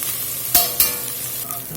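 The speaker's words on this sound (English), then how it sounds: "that old beef is sizzling now" Diced beef sizzles steadily in a hot pot, a constant crackling hiss broken by two sharp scraping stirs, with no talking.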